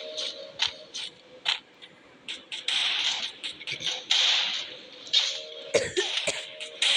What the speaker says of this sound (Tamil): அது கொஞ்சம் இருமல் வருது